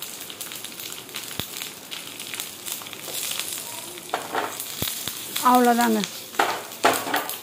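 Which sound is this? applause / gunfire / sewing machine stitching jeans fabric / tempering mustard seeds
tempering mustard seeds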